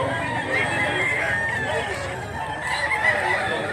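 Yellow-leg bullstag rooster at a gamefowl sale crowing steadily through the clip, close and loud over a busy outdoor murmur.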